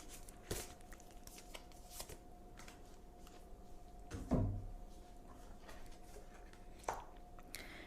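Oracle cards shuffled and handled for a love reading, soft papery riffles and a slap or two close by, with low background hum and no speech.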